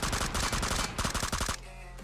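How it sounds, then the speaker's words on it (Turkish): An M4 rifle in PUBG Mobile fires a rapid automatic burst of closely spaced, loud, punchy shots for about a second and a half, then stops abruptly, leaving a low hum. No voices. "Bir de M4'ün şarjını değiştirip bir daha atsam"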